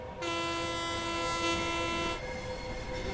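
A train in the Train Sim World 3 video game sounds a long, loud, steady horn blast over rumbling engine noise, then the horn cuts off while the rolling rumble carries on.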